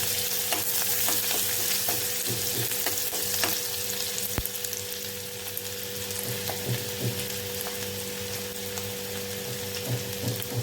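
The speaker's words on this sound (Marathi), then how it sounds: "चिरलेला कांदा घालायचा आहे तेलामध्ये" Finely chopped onion and garlic fry in oil in a kadai, a dense, even sizzle close by with frequent small clicks and scrapes of stirring throughout, no voices.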